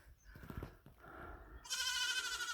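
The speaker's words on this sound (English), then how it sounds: "Now the baby goat's screaming." Baby goat screaming, a single loud, high, wavering bleat that starts partway through and holds to the end, preceded by quieter rustling and shuffling nearby.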